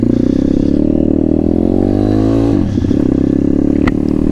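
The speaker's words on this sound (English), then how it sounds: "just a M2R Chinese pit bike, an RF160. Let's see how we get on." A road-legal M2R RF160 Chinese pit bike with a four-speed box, short wheelbase and small wheels, ridden with a loud, steady engine drone that rises in pitch, dips briefly and then settles again, with no voices.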